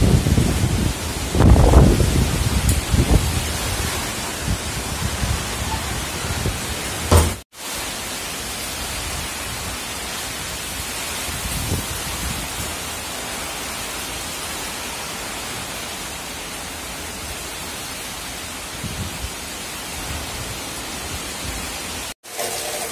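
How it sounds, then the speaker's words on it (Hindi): Heavy rain pours steadily during a thunderstorm in a village, with a loud rumble of thunder early on, then a constant dense hiss of rainfall continuing without speech. "आज हमारे गांव में बारिश हो गई, बहुत जोरदार बारिश आंधी तूफान के साथ शुरू हुआ।"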